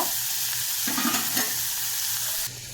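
Chopped onions sautéing in hot oil in a pan: continuous, close sizzling with soft stirring scrapes, cutting off near the end.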